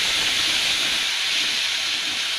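Garlic paste sizzling in a pan with fried tomato, a steady close hiss of frying that runs unbroken throughout, alone with no talking.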